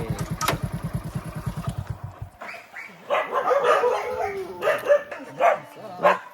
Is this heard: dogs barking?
yes